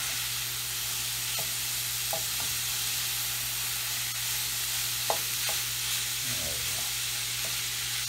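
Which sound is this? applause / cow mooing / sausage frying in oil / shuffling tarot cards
sausage frying in oil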